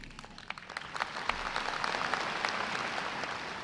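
Family and friends in the audience at a Sam Houston State University fall commencement practice clapping, scattered claps building into steady applause at moderate, somewhat distant level.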